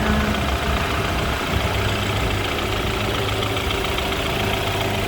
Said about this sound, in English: looking at the 2-liter turbocharged 4-cylinder, you'll find it idling very smooth.